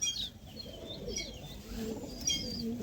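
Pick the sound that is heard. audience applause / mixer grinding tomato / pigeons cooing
pigeons cooing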